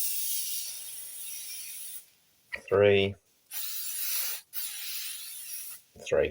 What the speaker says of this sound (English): got to spray my arms because we got to do longevity